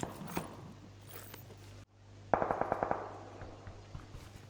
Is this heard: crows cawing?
no